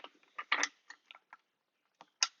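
Bolts and nuts being fitted onto a dust cyclone, a quick series of faint metallic clicks and ratcheting ticks, close by and quiet, with brief gaps between bursts.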